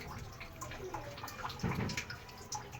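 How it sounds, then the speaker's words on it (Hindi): Water being poured little by little into flour mixed with ghee to make dough: faint, close trickling and dripping with small splashy bursts, no talking. "अब हम पानी डालकर थोड़ा थोड़ा सा"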